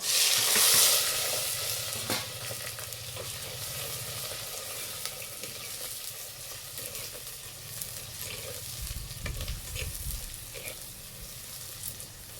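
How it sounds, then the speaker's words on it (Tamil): Cumin seeds, green chilli, garlic and onion fry in hot oil, a soft continuous sizzle with occasional stirring scrapes, heard close but at modest volume with no speech. "சீரகம் வந்து பொரியுது பாருங்க"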